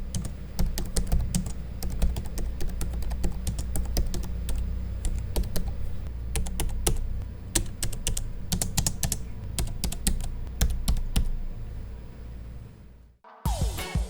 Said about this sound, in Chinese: 这边也提供一段键盘收音